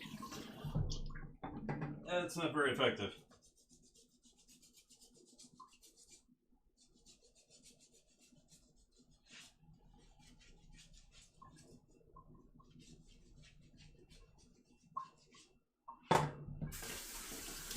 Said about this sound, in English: trying to clean butter off of this spatula using cold water